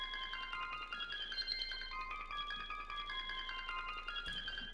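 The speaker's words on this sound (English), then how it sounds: "I finally found the sound called Resonation Cycles" Omnisphere synth melody using the Resonation Cycles patch, played dry with no effects: a steady, bright tonal line with sustained layered harmonics that moves through a few pitch shifts over several seconds, at moderate level with no voices.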